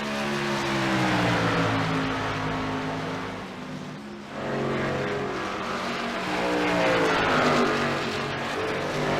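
A K&N stock race car pulls off pit road at Dover in a sim racing game, its engine droning and climbing through the gears with one brief lift before revving up again, steady and fairly close.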